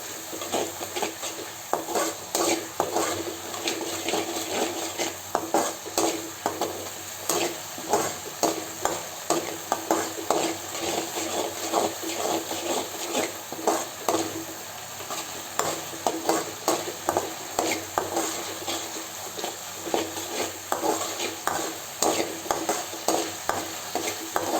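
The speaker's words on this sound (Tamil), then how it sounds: "இது கொஞ்சம் நல்லா வதங்கணும்." Chilli chicken is stirred and sautéed in a pan, with a steady oily sizzle under repeated rhythmic scrapes of a spoon against the pan, close and continuous.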